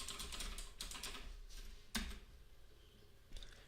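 Quiet, close typing on a computer keyboard, a few soft key taps followed by a sharper, louder press of the enter key and one more click near the end, with no voices.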